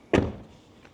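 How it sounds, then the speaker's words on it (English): A Tesla Model Y Performance door shuts with a single close, solid thunk, followed by a brief fading resonance. "So let's close this door"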